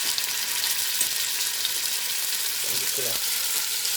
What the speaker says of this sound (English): to put them in and we're just going to brown them on each side